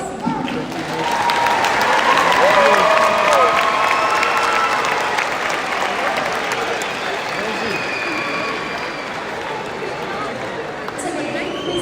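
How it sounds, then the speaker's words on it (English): A large graduation ceremony crowd applauds, sustained clapping swelling early then holding steady for several seconds, with cheers and murmuring voices mixed in. "give them a big thank you round of applause."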